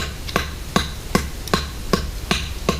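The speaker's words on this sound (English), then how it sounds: "and I hammer that in." A tent stake is struck with a stick used as a mallet while building an improvised emergency shelter in the Australian bush: seven sharp, evenly spaced knocks, close and clear.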